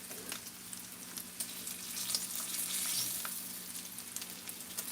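Bacon sizzles in a pan of hot grease, a continuous crackling hiss with scattered pops and spits, close and steady with nobody talking.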